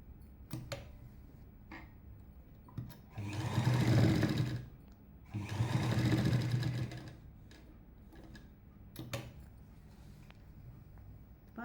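A sewing machine stitches a churidar neck design backed with canvas in two short bursts of fast, whirring stitching separated by a brief pause, with light clicks around them, close and alone.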